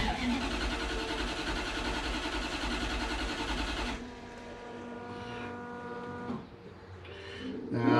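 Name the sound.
Toyota FJ40 Land Cruiser 1UZ engine cranking for compression test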